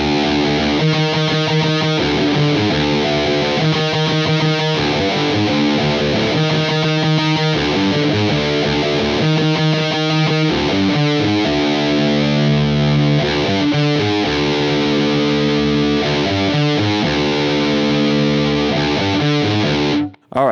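Punk song main riff played slowly on a heavily distorted electric guitar, picked out as single notes in repeating rhythmic phrases, loud and close with nothing else heard.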